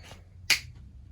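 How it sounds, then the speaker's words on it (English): A single sharp finger snap sounds once, close and crisp, against a quiet indoor background with a faint bit of voice just before it. "I'm gonna snap my fingers"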